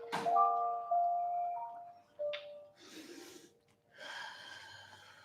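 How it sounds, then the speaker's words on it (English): Slow, deep inhales and exhales from a live yoga practice come as a few long, soft breaths over faint sustained background tones. "A few more rounds of breath here, y'all."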